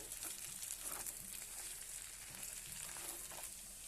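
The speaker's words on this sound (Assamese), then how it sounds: "মাংসখিনি ধুনীয়া কালাৰ আহি গৈছে, প্ৰায় ভাজ খাইছে" Mutton pieces fry and sizzle in a pan for an Assamese mutton curry, giving a steady, fairly faint crackling hiss with small pops throughout and no talking.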